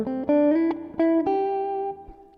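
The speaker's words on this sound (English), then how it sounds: "Fingernail on my thumb." A guitar string is plucked several times with a thumbnail, each bright snap followed by a ringing note that slides higher, then fades away.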